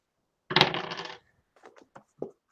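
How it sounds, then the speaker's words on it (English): Four white dice tumble across a surface during a tabletop role-playing session of Forbidden Lands: a dense rattling clatter for about half a second, then several scattered small clicks as they settle, with no talk. "the 4 white dice"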